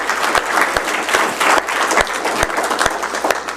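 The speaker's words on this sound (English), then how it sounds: "Let's give them a round of applause" Crowd at a city council meeting applauds the Tiny Mites youth football team with loud, close clapping from many people, punctuated by sharp individual claps and low thumps that pulse through the steady roar.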